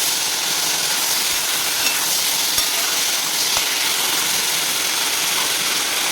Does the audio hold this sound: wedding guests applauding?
no